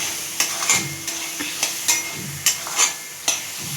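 A spoon stirs fish gravy with tomato in a hot pan, regular scraping strokes and light taps about every half second over a soft sizzle, close by.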